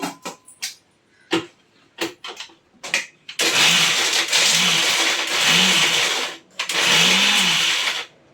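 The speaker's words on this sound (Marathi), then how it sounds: "मिक्सरमध्ये काढून घेते आणि असं जाड जसं आपण मोदकाला लागतं आपलं साधन तशा मध्ये वाटून घेऊया" A few short bursts of an electric mixer grinder chewing through chopped coconut, then a loud sustained whirring grind that pulses, briefly stops and starts again, close up with no talking.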